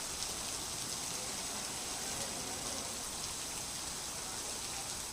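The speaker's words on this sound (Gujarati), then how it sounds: "કચ્છના કેટલાક વિસ્તારોમાં આજે આ કમોસમી વરસાદ છે" Unseasonal rain falls steadily in Kutch, a continuous even hiss of drops on the ground with no breaks and no voices.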